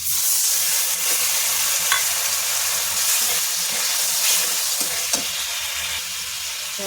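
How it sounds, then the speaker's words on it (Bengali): Spice paste fries in a pan as water goes in, a bright continuous sizzle with soft scraping stirs and small pops, steady and close. "মশলাটা হয়ে গেছে এবার একটু জল দিয়ে দেবো"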